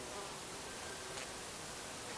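Bees or bumblebees buzz around red-flowered runner bean blossoms in a garden, a steady, soft insect drone filling the air throughout with no voices.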